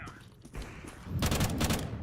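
AK rifle fire in Counter-Strike 2: a quiet stretch with a few soft thumps, then a loud, dense burst of rapid shots that fills the second half.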